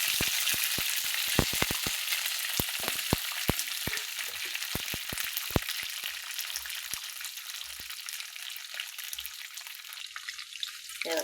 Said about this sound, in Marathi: असं कढीपत्ता पण तळून घ्यायचा आहे बरं का.